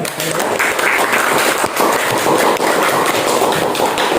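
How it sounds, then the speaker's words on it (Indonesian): Classroom applause from a group of students, a dense steady patter of many hands clapping throughout, fairly loud and close. "Berikan aplaus ya."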